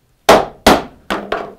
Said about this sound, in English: Put my hold fast down here. Grab a hammer, mallet.